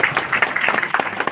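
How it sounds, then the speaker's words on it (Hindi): Village crowd at a Diwali gathering breaks into brief applause, a dense patter of many hands clapping close and lively. "जोरदार ताली से सम्मान कराओ।"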